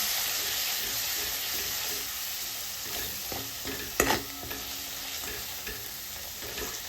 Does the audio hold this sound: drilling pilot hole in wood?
no